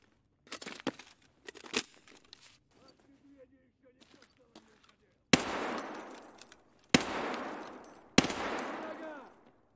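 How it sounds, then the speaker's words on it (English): Loud gunshots from a KS-23 shotgun in Escape From Tarkov. Scattered sharp cracks come first, then three heavy booming blasts about a second and a half apart, each trailing off into a long ringing decay. "20 shots."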